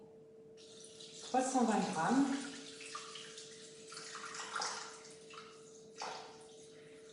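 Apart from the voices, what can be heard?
water being poured into bowl on kitchen scale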